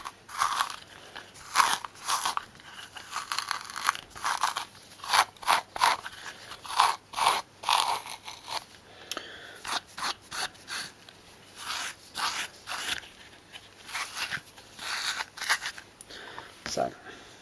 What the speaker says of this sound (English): just gently abrade the top surface, give me some scratches to rub some dirt into